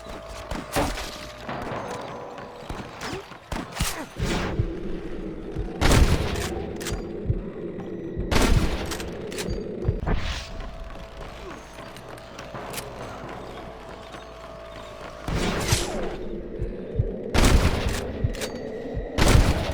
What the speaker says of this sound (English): Hear more gunshots.